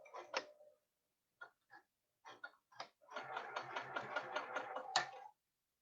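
Sewing machine stitching along the edge of folded fabric for a quilt sampler block: a few short isolated bursts, then a steady, close mechanical whir of about two seconds.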